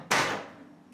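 A door opening indoors: one sharp wooden knock or latch thud, followed by a short fading rattle and a faint second click at the end.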